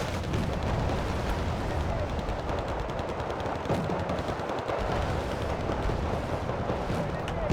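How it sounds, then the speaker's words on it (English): Cluster munition explosions in the Cold War strategy game Wargame: Red Dragon, dropped on enemy units: a dense, continuous rattle of rapid small blasts and rumbling booms, loud and unbroken throughout, with background battle noise and a voice talking over it. "we can probably hit all of these guys with cluster munitions, so we'll do that"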